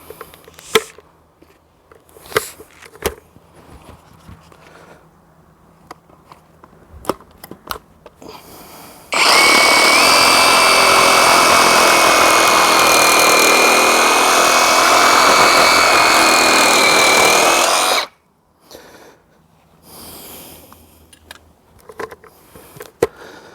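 A Worx WX516 brushless saw cuts through a tree trunk with a loud, steady whine that lasts about nine seconds. Quiet clicks and handling noises come before and after the cut.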